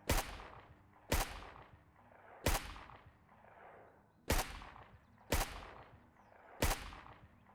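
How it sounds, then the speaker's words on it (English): Six single gunshots from a gun in the zombie survival game Surroundead, each a sharp, loud crack with a short ringing tail, fired at uneven intervals of about a second with quiet gaps between them. "I guess it's my first day shooting this damn gun"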